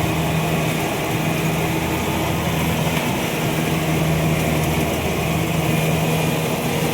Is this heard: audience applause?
no